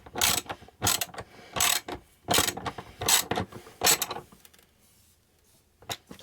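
A ratchet wrench tightens a bolt on an RV station build, five loud rapid bursts of clicking spaced about a second apart, then a quiet pause and one last short burst.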